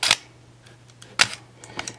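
Shutter of a Minolta X-700 35mm SLR film camera with a 50mm f/1.7 lens firing at slow speeds, each release a sharp close mechanical clack followed after a short gap by a second closing snap, repeated alone over a faint hum.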